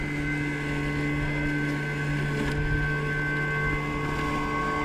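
A LYMOW One robot lawn mower runs with a steady electric motor hum and several sustained tones, even and continuous at moderate distance, with no talk.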